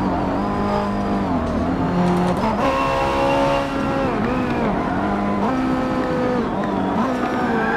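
A 1995 Nissan GT-R racing engine in Forza Motorsport 7 on the Nordschleife roars continuously and loudly, its pitch climbing and dropping through gear changes with faint tire noise underneath.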